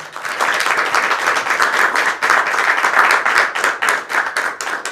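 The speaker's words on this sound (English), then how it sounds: "So a round of applause, please, for these." Audience at a village trustees meeting gives a round of applause for community volunteers, a close, fairly loud burst of many hands clapping with uneven swells and dips across the whole stretch.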